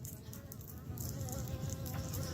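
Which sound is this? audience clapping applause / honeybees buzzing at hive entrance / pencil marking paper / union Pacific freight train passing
honeybees buzzing at hive entrance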